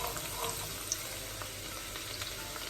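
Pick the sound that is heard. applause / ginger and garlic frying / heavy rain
ginger and garlic frying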